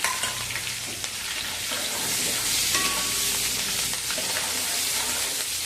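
Green chillies fry in oil for nylon poha chivda, a steady close sizzle with bubbling crackle and occasional stirring scrapes, continuous throughout without talk.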